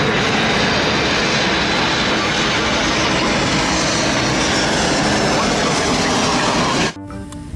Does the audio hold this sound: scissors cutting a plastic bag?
no